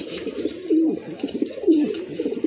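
A running pigeon of a breeding pair coos twice in close succession, near and clear, with soft low throaty rolls repeating through the moment.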